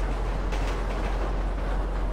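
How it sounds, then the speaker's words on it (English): A train in GTA rumbles along steadily, a continuous loud low roar with broadband rolling noise and no break, with no voices. "how to stop a GTA train"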